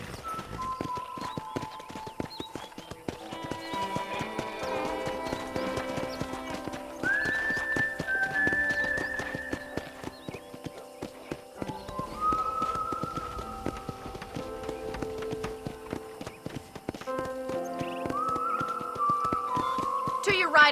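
Horse hooves clip-clop at a steady riding pace in Red Dead Redemption on Xbox One, rhythmic and fairly quiet, with a couple of whinnies and soft background music running beneath.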